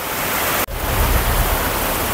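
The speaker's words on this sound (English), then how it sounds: "It's raining again. Absolutely throwing it down." Heavy rain pouring down on a morning in Thailand, a loud, steady broadband wash of water with a brief dropout near the start, then continuing dense and unbroken, with no voices.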